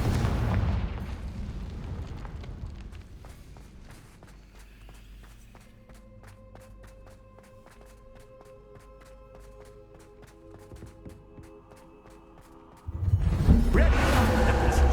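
A Confringo blast spell goes off in the Hogwarts Legacy video game. Footsteps and sparse chiming tones come first, then a sudden loud, booming explosion near the end.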